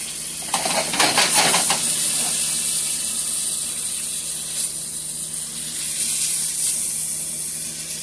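Ground turkey meatballs sizzle in a pan, a steady bright hiss with a brief burst of clattering, crackly spatter early on before the frying settles into an even sizzle.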